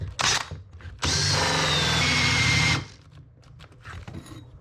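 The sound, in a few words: power drill boring a 2-inch hole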